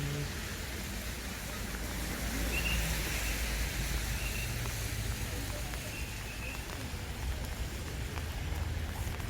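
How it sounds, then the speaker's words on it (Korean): Steady rain patters continuously at a countryside reservoir, a dense even hiss with faint scattered chirps in the distance and no clear voices. "비가 오고 있는 중에"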